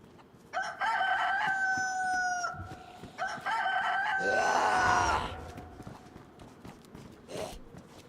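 In the survival game DayZ, set in Chernarus, a chicken calls twice in drawn-out, harmonic cries like crowing, close and fairly loud, followed by a brief scuffling burst and quieter clucks.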